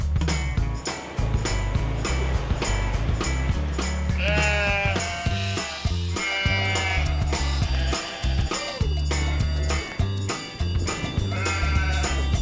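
Sheep bleat repeatedly at a woolshed, several loud close calls overlapping in irregular bursts over a low background rumble.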